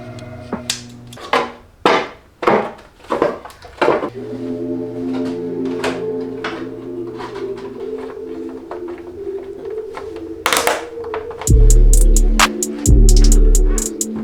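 Vinyl wrap being peeled off the fuel tank of a Yamaha MT-09 motorcycle: a run of rasping, tearing bursts up close, followed by a steady low hum with scattered knocks and clicks.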